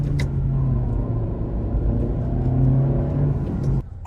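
A manual-transmission car engine droning steadily under load as it winds out through the gears, a low, even rumble held for several seconds before easing off sharply near the end.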